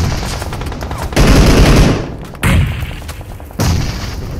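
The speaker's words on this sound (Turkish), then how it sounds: "Bomba atıyorum bir tane daha" Heavy booms and rumbling gunfire in a PUBG Mobile match, arriving in three loud, dense surges separated by sudden cutoffs, close and overwhelming.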